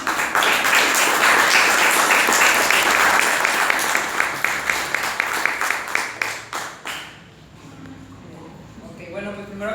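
Welcoming applause for a speaker at a magazine presentation event, a loud burst of clapping that thins into a few scattered claps and fades, after which a voice begins speaking.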